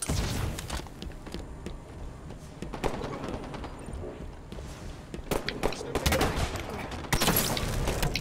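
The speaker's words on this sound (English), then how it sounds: "it's a rocket launcher." Rocket launcher fire in Halo 5 multiplayer: a busy game soundscape of shots and thuds, with louder, bursting blasts late in the clip.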